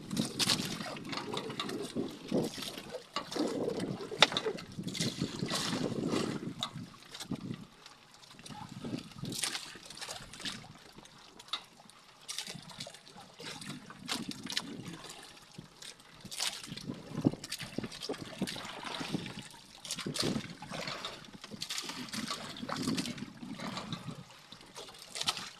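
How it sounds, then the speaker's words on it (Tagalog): Small fishing boat rocking on big sea waves before rain, water sloshing and trickling against the hull with intermittent knocks and clatters, fairly faint and uneven. "kung maririnig ninyo ang kalampagan ng bangka, masyadong malakas pa ang mga guys, alon, malalaki."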